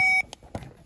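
A single sharp electronic beep sounds at the start, then cuts off into quiet handling noise and soft knocks while a 2013-2018 Toyota RAV4 key fob fault is being tested at the wiring pins.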